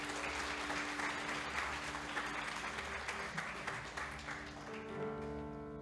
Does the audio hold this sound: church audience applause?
yes